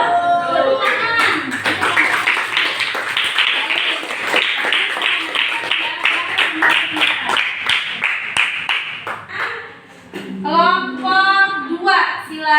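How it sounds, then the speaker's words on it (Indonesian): Students in an Islamic religious education class clap together in a sustained, dense burst lasting about ten seconds, followed by a voice speaking near the end. "Tepuk tangan."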